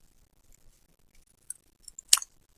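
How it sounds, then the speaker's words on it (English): Scissors snip through four stacked layers of paper in a quiet room, a few faint small clicks leading up to one crisp, close cutting snap near the end. "I'm going to take my scissors and I'm going to cut my feet out."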